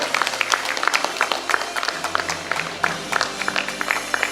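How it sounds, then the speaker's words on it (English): Scattered applause from an audience at a college graduation ceremony in Bengaluru as a graduate receives a subject proficiency award, irregular claps spread through a hall, fairly steady and moderately loud, with no talk over it. "A big round of applause to Garmilo."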